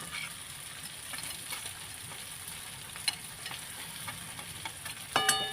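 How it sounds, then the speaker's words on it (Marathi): Dry red chilli powder and spices frying in hot oil for a pea and mushroom curry, a continuous fine sizzle with soft stirring scrapes and a louder clatter of the spoon near the end. "मसाले तेलामध्ये व्यवस्थित परतून घ्यायचे"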